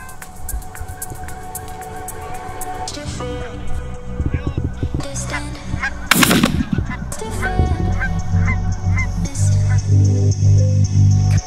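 Geese honk loudly during a goose hunt, with repeated calls and a short burst near the middle that may be a shot, then steady low honking and other field noise, with voices at times.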